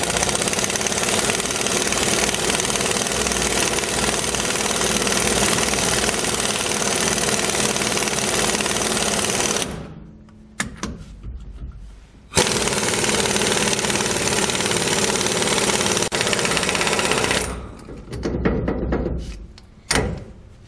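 Impact gun tightening the pinion nut on a Ford or Dana axle, loud sustained rattling hammer bursts close by, two long runs broken by brief pauses and short blips.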